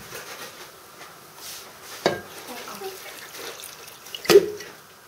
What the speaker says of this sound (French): Et on rajoute de l'eau pour couvrir à peu près toute la viande.